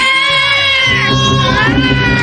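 A high, wavering wail like a crying kitten rises and bends over a low rumbling background, loud and close.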